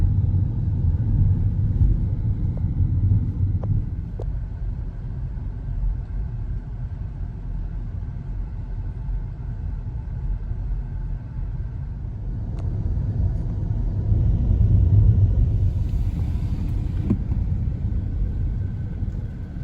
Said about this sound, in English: Old school car.